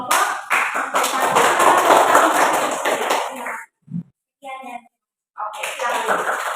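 Students in a classroom give a short round of applause for a student group after its presentation, brisk clapping for a few seconds followed by a brief pause and then a teacher talking.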